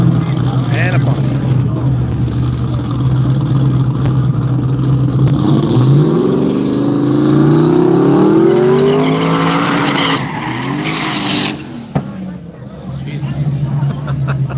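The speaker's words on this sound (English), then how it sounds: "I swear that front end was coming up in the freaking burnout in the Pontiac" A Pontiac drag car at Hypoxia Dragway in Evanston, Wyoming, does a loud burnout, its engine revving hard and rising in pitch amid tire noise, with crowd voices and talk underneath.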